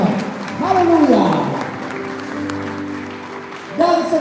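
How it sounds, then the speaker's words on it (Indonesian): Applause at a wedding ceremony, a crowd clapping steadily at moderate volume beneath an officiant's amplified voice and sung or spoken exclamations. "Berikan tepuk tangan yang meriah buat Tuhan."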